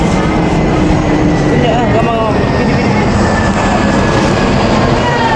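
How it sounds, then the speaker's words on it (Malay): Steady engine roar of an airplane passing overhead a market in Kota Kinabalu, Sabah, loud and continuous, with people chatting in the background. "Ada kapal terbang"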